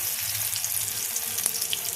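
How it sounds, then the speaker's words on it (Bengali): Mustard flower pakora batter fries in oil over a low flame, a soft, steady close sizzle with a faint low bubbling underneath and no voices. "সেই কারণে ব্যাটার আমি কিন্তু একদম লো ফ্লেমে"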